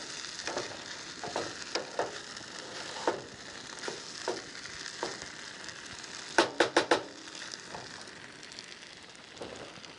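Fried rice sizzles in a pan at a campsite while a utensil scrapes and clacks through it in irregular strokes, ending in a quick run of four sharp knocks, with no talk.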